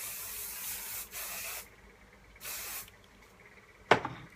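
Two bursts of aerosol hairspray hiss out, each about half a second long, followed by a brief clack of handling.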